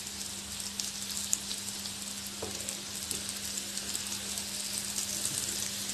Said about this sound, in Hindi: जब तक हमारी शकरकंदी शैलो फ्राई हो रही है